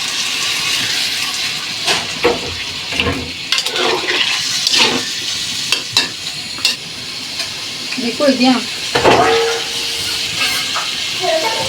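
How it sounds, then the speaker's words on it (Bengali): Water goes into a pan of fish and potato chochchori curry already cooking in oil. A loud, hissing sizzle follows, with scraping stirs and clinks of the spoon running throughout. "একটু জল দিয়ে দিলাম"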